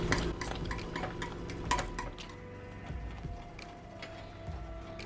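Fork scraping and clinking in a pot of cooking grits while stirring out lumps, irregular metallic taps and wet churning, close and fairly steady.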